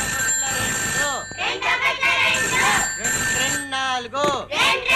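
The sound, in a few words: telephone ringing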